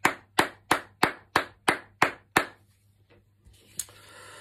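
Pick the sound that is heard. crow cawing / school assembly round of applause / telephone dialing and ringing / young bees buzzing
school assembly round of applause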